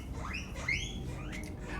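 Guinea pigs squeaking, a few short high rising chirps and whistles, faint, over a steady low background hum.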